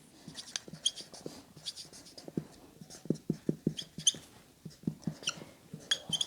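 Pen or pencil strokes scratch across paper while a matrix additive inverse is written out, short irregular taps and scrapes close by, fairly faint, with no talk.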